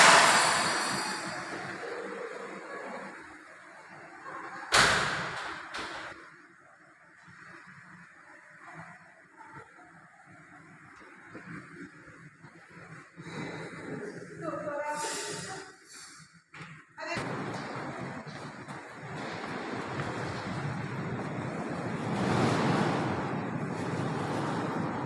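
Strong, noisy wind storm in Pamulang, roaring broadband and gusting unevenly over about 25 seconds, with sharp bursts and a louder surge near the end, and faint traffic noise underneath.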